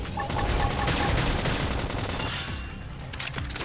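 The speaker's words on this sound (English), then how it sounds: "Topple them with some gunfire!" Rapid bursts of video game gunfire in Xenoblade Chronicles X crackle in a dense, continuous barrage with sharp, bright transients, steady and loud throughout.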